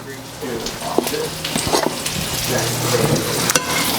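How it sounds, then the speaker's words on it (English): Butter sizzles steadily in hot cast iron pans pulled off the heat, a close, continuous frying hiss broken by a few sharp pan clanks. "This is cast iron, so it retains heat. So I've pulled it off the heat, and I'm going to add more butter to each pan."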